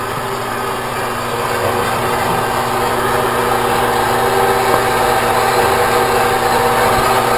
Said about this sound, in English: My cutoff saw.